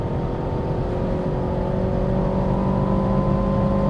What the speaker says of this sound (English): This is a fast-ass truck.